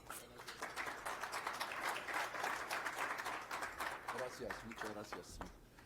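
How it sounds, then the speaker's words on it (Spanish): An audience at a business club event gives loud, sustained applause for a guest, dense clapping filling the room throughout with a voice speaking over it. "les pido por favor que recibamos con un muy fuerte aplauso"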